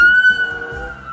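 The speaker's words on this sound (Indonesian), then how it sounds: "Kita menemukan mobil patroli polisi." Police patrol car siren holding a loud, steady high tone that fades slightly toward the end, heard close with no talking.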